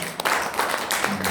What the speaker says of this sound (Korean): 이 산무에 대해서 동의하시면 박수 한번 쳐주시면 됩니다.